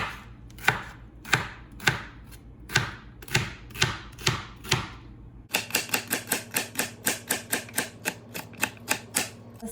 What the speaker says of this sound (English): The first step is to cut the celery. So you cut it in an angle like this.